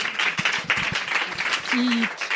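Audience applause at a live podcast recording as a guest takes the stage, a brief burst of clapping with a voice briefly rising over it.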